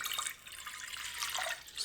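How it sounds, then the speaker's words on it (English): Water running from a tap into a cooking pot for a double boiler, a faint, continuous splashing trickle with no talk. "just put a little bit of water in there and get that to a simmer"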